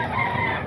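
A brief snatch of a gamefowl rooster crowing, one of a pair of Kelso and Corona birds offered for sale at a poultry gathering in Calumpit, loud and close, filling the short moment on its own.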